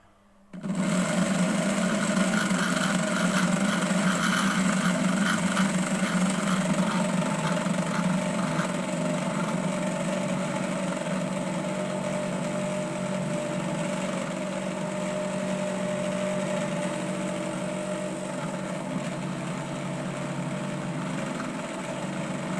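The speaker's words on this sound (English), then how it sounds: "this AC motor connect to the AC source" An AC motor connected to mains power switches on and runs with a steady, loud electric whine and hum, holding constant to the end.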